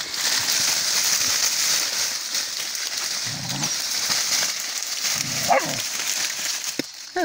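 Several dogs on a rural sugarcane plot make a few scattered, short barks and yips, faint to moderate, over steady outdoor background noise.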